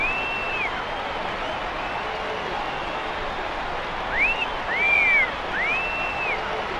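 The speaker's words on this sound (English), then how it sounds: "It seems the crowd appreciates something here." Crowd noise from a boxing arena in the video game Knockout Kings 2001 on PS2, a steady wash of applause and cheering with several shrill whistles rising over it.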